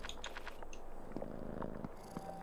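A cat purrs close up in the game Creepy Tale 2, a soft, rapid, continuous rumbling flutter lasting a couple of seconds with faint clicks over it.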